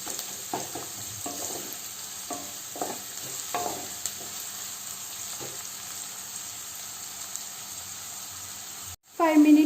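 Onions frying in a pan, a steady close sizzle with several soft stirring scrapes, cut off near the end by a brief louder burst.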